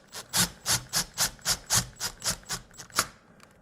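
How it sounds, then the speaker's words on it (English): Screws are driven into a wall to fix an Ecobee thermostat base plate, giving about a dozen rhythmic scraping strokes close to the microphone that end with a sharper final turn. "now I'm going to secure it with these screws"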